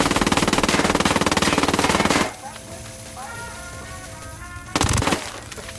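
Automatic gunfire in the video game Tom Clancy's Ghost Recon Wildlands, a long rapid burst followed by a quieter stretch and then a second short burst.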